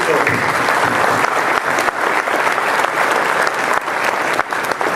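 Audience at a State of the City luncheon applauding, a dense, sustained burst of many hands clapping that stays loud and even throughout with a few sharper individual claps.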